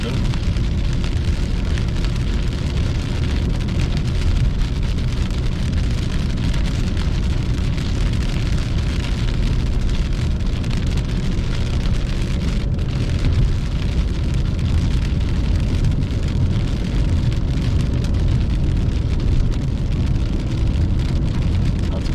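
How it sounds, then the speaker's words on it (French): Steady rain hisses on a surface throughout, a dense, even patter with a low rumble underneath and no clear voices. "La pluie va faire du bien."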